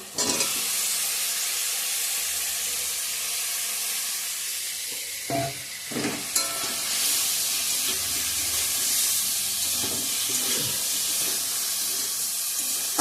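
Fried potatoes and cauliflower sauté in a pan for an egg curry, making a continuous steamy hiss and sizzle with a few clanks of utensil against the pan partway through.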